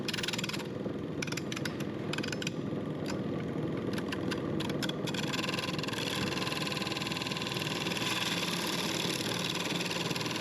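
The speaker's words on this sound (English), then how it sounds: "So, off on the grinder, give it a quick grind, and we are back in action." A bench grinder sharpens a woodturning tool, giving a steady, close motor whine with a rough grinding hiss that runs without a break for the whole stretch.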